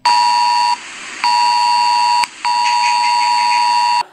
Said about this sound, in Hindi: ये मैसेज दिखेगा और तेजी से आवाज भी करेगा